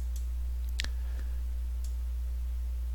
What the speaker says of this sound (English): To run Quick Assist, click on this.